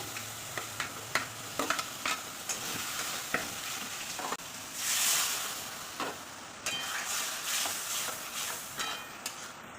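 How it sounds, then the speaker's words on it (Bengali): Fried potatoes go into sizzling spice masala for a chhana dalna, with rhythmic spoon taps and scrapes, then a swelling burst of frying hiss midway that settles into a steady sizzle. No one speaks. "এবার আমি আলুগুলো দিয়ে দিচ্ছি।"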